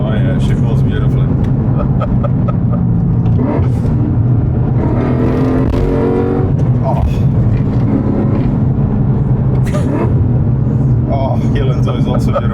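A BMW E36 Touring with a swapped S62 V8 drives along with a steady, loud engine rumble and some revving from inside the car, while people talk throughout.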